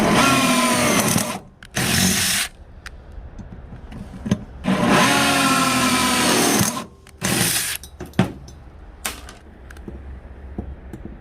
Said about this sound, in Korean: 구멍이 많지 않으니까 크게 뚫어야 되겠어.